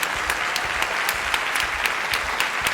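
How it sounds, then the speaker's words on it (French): An audience at a ceremony in the Bataclan hall gives firefighters a dense, sustained round of applause, many hands clapping steadily throughout at close range with no speech. "Merci pour cette salve d'applaudissements nourris."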